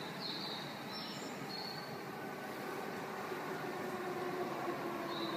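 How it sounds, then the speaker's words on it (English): A train arriving at a station in Japan rumbles steadily with a low continuous roar, and faint high squeals come from the wheels as it rolls in. "Let's see if I can record the noises that the train makes."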